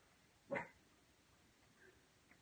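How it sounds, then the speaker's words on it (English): Dogs barking outdoors on a warm evening, heard through an open door: one distant bark stands out near the start, then faint scattered yips further off over quiet room tone. "Dogs are barking outside, so Bobby's decided to have a go."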